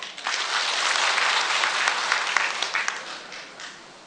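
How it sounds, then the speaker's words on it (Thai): Applause from a seated audience at a lecture hall talk on informal labour policy, a full, even wash of clapping that holds steady and fades slightly at the end. "ถ้าดีก็ขอเสียงปรบมือหน่อยครับ"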